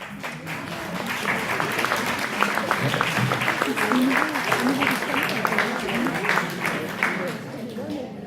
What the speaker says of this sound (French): Je vais les appeler afin que vous les honoreriez de vos applaudissements.